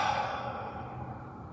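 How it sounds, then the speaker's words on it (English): A single long, soft exhalation during a tai chi twist, returning to a balanced neutral stance; close and breathy, tapering gradually over about a second and a half with no talk. "I breathe out."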